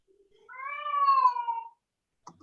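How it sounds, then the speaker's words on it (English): A domestic cat gives a single drawn-out meow, rising then falling over about a second. It is close and clear in a quiet room, followed by a faint click. "Sorry if you can hear my cat"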